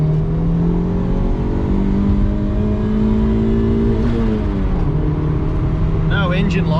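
A Honda Civic with a turbocharged D16 engine running 5 psi accelerates hard under boost in second gear, a loud continuous droning engine note rising steadily in pitch, dipping briefly at a shift, with faint whistling toward the end.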